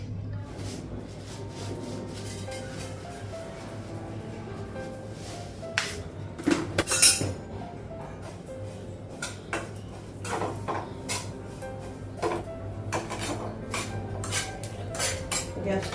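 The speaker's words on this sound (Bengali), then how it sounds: "ঠিক আছে বাসনটা উপর ঝুড়িতে রাখবো" Dishes and cutlery clatter as utensils are shifted from a lower basket to an upper one in a home kitchen, with irregular clinks and knocks over a steady low hum, a louder cluster of bangs midway, no talk.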